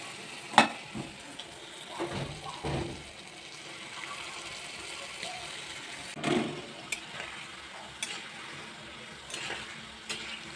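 Palm fruit fritters (taler bora) sizzle in oil in a kadai with a steady, hissing fry, broken by occasional clinks and scrapes of stirring utensils.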